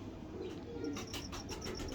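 Pigeons kept by a hobbyist coo softly in a faint, distant run of repeated low calls, with light chirps laid over a quiet background.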